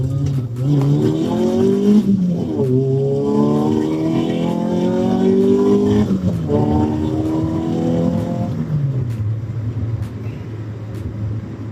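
A Peugeot 106 XSi with a repaired engine accelerates hard as the car drives off, its loud engine note climbing through repeated rising sweeps and gear changes before easing to a steady idle.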